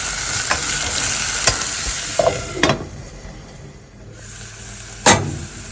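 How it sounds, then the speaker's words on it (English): Green peas sauté with Bajan seasoning in a pot, a steady close sizzle broken by several sharp clinks of a spoon against the pan, no talking. "Now we allow them to saute and cook together for about 10 minutes"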